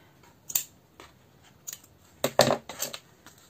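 Scissors snip through a thin card or paper for an aquacard craft, about eight crisp cuts in uneven bursts. A louder cluster of snips comes toward the end, with no voices.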